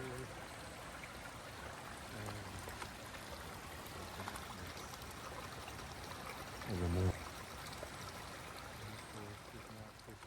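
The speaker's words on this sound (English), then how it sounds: "We're walking beside the river." River flowing beside a forest hiking trail at Mount Rainier, a steady soft rushing wash of water heard throughout, with a brief louder splash or thump near the end and faint speech over it.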